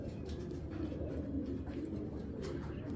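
Young racer pigeons on a breeding farm coo softly, a low murmuring burble over steady background noise with no talking.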